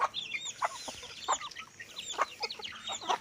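A flock of hens, with a single young rooster among them, clucks in a farmyard, giving many short overlapping clucks and calls close by and at moderate loudness.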